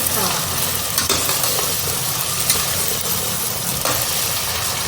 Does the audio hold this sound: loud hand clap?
no